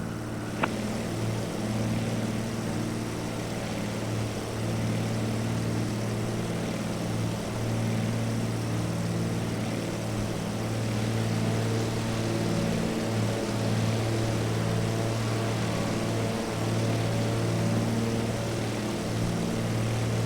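De Havilland propeller aircraft cruising at about 1,200 feet in Microsoft Flight Simulator 2024, a steady, loud, unbroken engine and propeller drone with a constant low hum and no talk.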